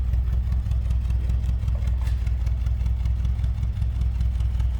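Steady idle of a 1963 Mercedes-Benz 190SL's 1.9-liter single overhead cam inline-four, a low even pulsing hum heard close up with no voices over it.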